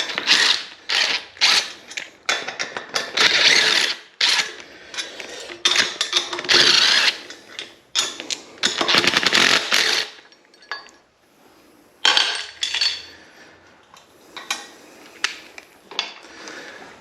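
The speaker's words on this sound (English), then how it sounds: "2 more bolts to go. And to expedite the process, I will use the old power tools." A power tool whirs and ratchets in repeated short bursts, close by, with brief pauses between runs as bolts are driven while building a Kubota B2601 tractor.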